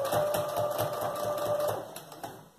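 A sewing machine stitches a child's backpack, a rapid rhythmic needle clatter close up with a faint steady hum, easing off toward the end.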